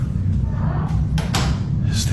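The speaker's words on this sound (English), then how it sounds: "This thing's always closing doors." Two or three dull thuds from a door banging shut in an office. They come over a steady low rumble, and the second one is the strongest.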